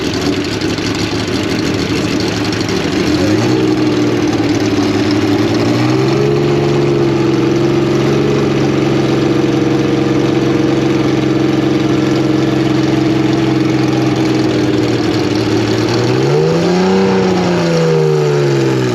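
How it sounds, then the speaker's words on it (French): Mid-rear mounted V6 car engine at a classic car show, starting up and then idling steadily with a low harmonic drone, then giving a brief rev near the end; loud and close, with no talk. "On a un V6 en partie centrale arrière."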